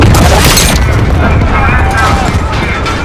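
A loud, sustained explosion rumble fills a Call of Duty: Modern Warfare battle scene, heavy low boom decaying over several seconds with crackling debris and a voice speaking underneath.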